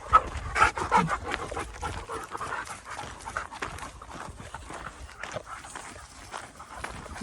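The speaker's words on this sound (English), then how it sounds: "They're already panting away." Dogs pant outdoors near farm fields, quick breathy huffs mixed with faint footsteps on the ground, moderately close and without talking.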